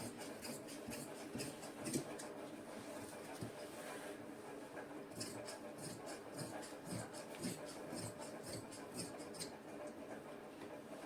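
Cloth being cut for a salwar design gives repeated close scraping and rasping strokes, in irregular bursts with a short lull in the middle and no speech.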